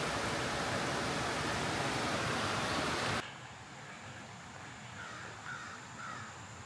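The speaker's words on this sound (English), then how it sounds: "Here's the river that runs right along it." A river flows past an abandoned Appalachian coal mining town in Kentucky, a loud steady rush of water that drops away halfway through to quieter outdoor ambience with a few faint distant calls.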